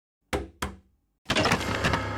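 Two sharp knocks on a door, close and loud, followed after a short pause by a busier burst of door noise and movement.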